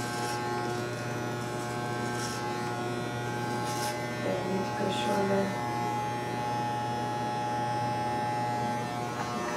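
An electric clipper buzzes steadily and close up while cutting a woman's hair, a constant humming drone with a few brief louder scrapes, and voices murmur faintly at times.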